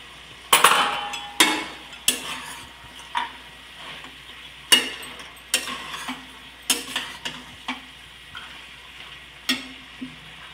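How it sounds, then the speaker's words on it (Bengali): Spinach curry with fried lentil dumplings being stirred in a pan: a dozen or so sharp spatula scrapes and clanks in an irregular rhythm, close and fairly loud, over a faint steady sizzle. "ভাজা বড়িটা ভালো করে নেড়ে চেড়ে তার সাথে আমি দিয়ে দিচ্ছি ধনেপাতা"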